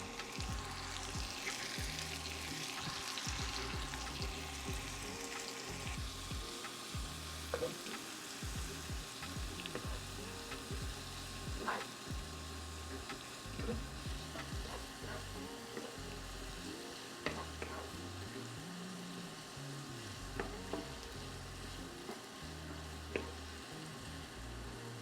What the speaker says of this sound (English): To the pan, I'm going to add my diced vegetables.